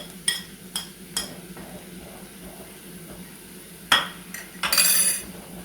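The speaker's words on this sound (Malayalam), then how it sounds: "എന്നിട്ട് നന്നായിട്ട് ഇളക്കുക." Utensil stirring okra fry in a pan after chili powder is added, a few scattered clinks and scrapes against the metal with a brief louder sizzling rustle near the end.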